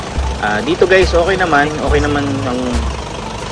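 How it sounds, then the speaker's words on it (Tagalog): A car engine idling just after a cold start, a steady low running note with regular pulses heard under someone talking close by. "Inaandar na natin guys ang medyo makina, no?"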